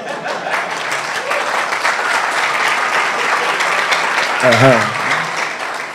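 Sustained applause from a conference audience in Abuja, steady clapping filling the whole stretch with a brief voice near the end.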